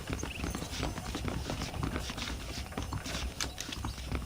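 Horse hooves clip-clop steadily in Red Dead Redemption, a dense run of quick, even hoofbeats with faint game mechanisms beneath and no talking.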